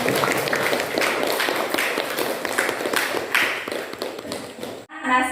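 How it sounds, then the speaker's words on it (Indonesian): A class of students gives a dense, continuous round of clapping for their classmates during an Islamic studies lesson, fairly loud and close, stopping abruptly near the end. "Ya, sekarang tepuk tangan untuk teman-teman."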